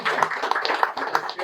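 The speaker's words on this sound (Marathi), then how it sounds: "सगळ्यांनी टाळ्या वाजवा" A game show audience claps together briefly, a short burst of scattered hand claps mixed with speech.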